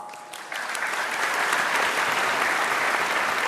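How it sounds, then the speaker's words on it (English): An indoor audience applauds performers from Bali at a climate change and vegan event, a dense steady clapping that swells after a brief start and holds loud throughout. "Let's give them another round of applause."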